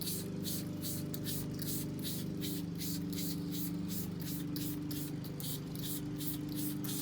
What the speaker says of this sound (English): you can use it just by misting it on like this